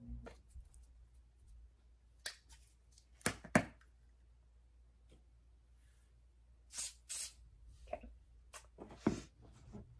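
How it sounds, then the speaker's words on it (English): Glue sprayed from an aerosol can onto a glitter-covered liquor hat, heard as several short hissing bursts spread across the clip, with two back-to-back blasts near the middle and a cluster of sprays toward the end. "I think I'm gonna spray it with the glue"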